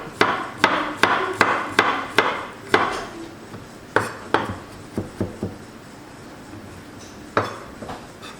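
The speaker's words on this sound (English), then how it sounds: "Pound cilantro root first, then garlic" Cilantro root and garlic are pounded in a mortar with a pestle, giving a series of sharp, hard knocks in quick rhythmic bursts, then slower scattered strikes, close and loud without talk.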